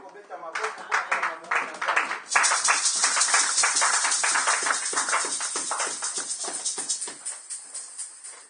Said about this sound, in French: on va applaudir notre Dieu